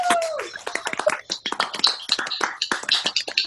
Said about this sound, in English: So after 3, we're going to give ourselves a big clap.